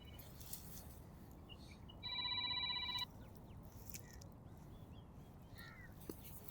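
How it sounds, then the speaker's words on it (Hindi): A single short electronic phone ring tone sounds for about a second, clear but moderate, over quiet outdoor ambience with distant bird calls. "रुकिएगा, फोन आ रहा है।"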